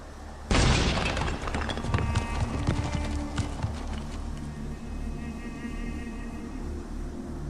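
Gunpowder explosives detonate at a pillar in a video game, a sudden loud blast followed by clattering, tumbling debris that patters and rattles for a few seconds before fading into a low rumbling ambience.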